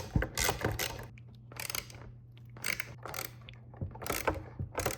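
A ratchet wrench backs out 8 mm bolts holding carbon wings on a 2025 Ducati Panigale V4, with close bursts of rapid clicking separated by short pauses and a faint steady hum beneath.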